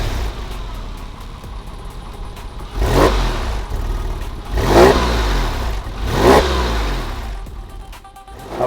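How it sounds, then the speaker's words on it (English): A 2002 Porsche 996 with a 4.0L engine revs three times in quick bursts over a steady idle, each rise swelling into a throaty exhaust note before settling back, close and fairly loud. "It's got a nice exhaust note, throaty feel, throaty sound."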